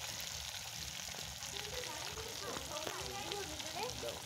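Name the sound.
Ilish fish frying in a pan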